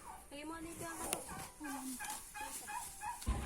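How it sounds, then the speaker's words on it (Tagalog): Several rapid turkey gobbles ring out close by, warbling bursts repeated in quick succession with a brief clatter in between. "may pabo"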